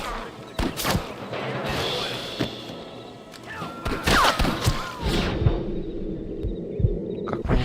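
Gunshots ring out in a Red Dead Redemption shootout with rustlers, several sharp cracks and thuds scattered unevenly over continuous game ambience, with brief shouted voices nearby.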